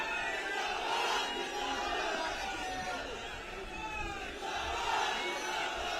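Large outdoor political rally crowd in Kanpur shouting and cheering, a continuous dense roar of many voices with loose swells and dips, fairly distant and steady, with a speaker's voice mixed in.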